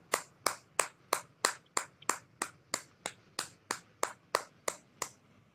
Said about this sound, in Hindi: आइए एक ऊंचे ताली लगाते हैं